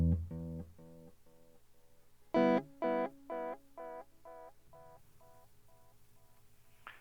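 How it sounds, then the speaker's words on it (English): A delay audio effect repeats a tonal synthesized note several times after the initial sound, each echo arriving in a steady rhythm and fading progressively quieter until it trails away. "You can also replay a sound repeatedly after an initial sound is sounded. This is called delay."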